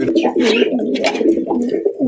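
Rajshahi high-flying Giribaj pigeons at a pigeon sale coo close by in soft, throaty, repeated rolling calls that overlap steadily throughout, with faint chirps mixed in.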